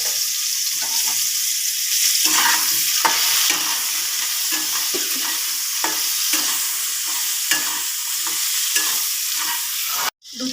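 Potato, raw banana and sweet potato pieces frying in oil for shukto, a bright continuous sizzle up close, punctuated by repeated stirring scrapes and clacks of a spatula against the pan.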